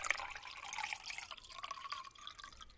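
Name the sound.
seawater poured through a micrometer filter mesh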